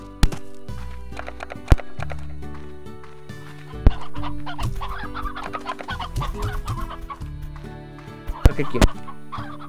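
Chickens cluck repeatedly in the video game Slime Rancher alongside clopping hoof-like thumps and game tones, fairly loud and busy, with a person speaking briefly over them.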